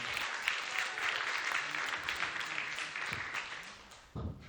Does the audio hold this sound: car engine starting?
no